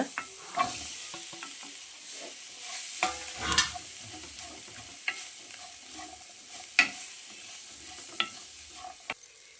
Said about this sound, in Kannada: ಇದಕ್ಕೆ ಇವಾಗ ಚಾಟ್ ಮಸಾಲ ಹಾಕಬೇಕು ಚಾಟ್ ಮಸಾಲ ಇದು ಒಂದೆರಡು ನಿಮಿಷ ಫ್ರೈ ಮಾಡಿ ಹಲಸಿನ ಬೀಜ